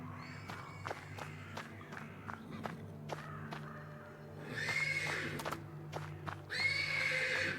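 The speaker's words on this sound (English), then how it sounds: "The persistent neighing of a horse can be heard from the stables." Horse neighing repeatedly from stables in the video game Black Book, close and persistent, with hoof clip-clops and shuffling steps between calls and a brief crowd-like murmur behind.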